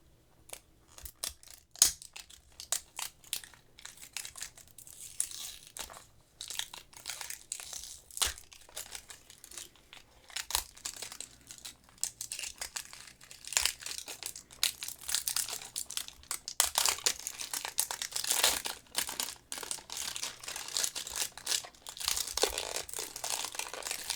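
Plastic wrapping on a Yu-Gi-Oh! blind figure box crinkles and crackles as it is torn open, with a long, continuous run of close, irregular rustling that grows busier and louder toward the end.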